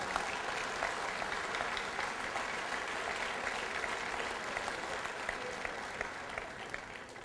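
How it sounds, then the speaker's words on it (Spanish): A congregation at a 2008 finance sermon gives steady, dense applause that holds at an even level throughout without fading, heard from within the crowd. "Un aplauso para el Señor."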